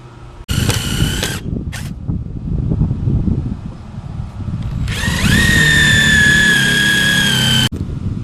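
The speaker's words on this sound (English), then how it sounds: "we'll go ahead and drill those countersink holes out right there" A power drill bores countersink holes in shelf boards, whining in a short burst and a brief blip, then in a longer high-pitched run that climbs as it spins up, over rustling wind noise close to the microphone.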